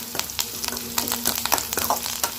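Curry leaves sautéing in hot oil in a pan while cooking banana stem kootu: a continuous close crackling sizzle with quick rustling stirs and light spoon taps, no voices.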